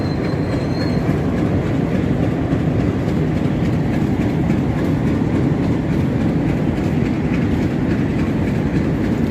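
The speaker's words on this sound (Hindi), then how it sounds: "ये पाकिस्तान रेलवे है और ये इंजन भी सेट हो रहा है" A Pakistan Railway train at Lahore station, its engine being set to the train, gives a loud, continuous rumbling roar with dense mechanical clatter, close and steady throughout, with no talk over it.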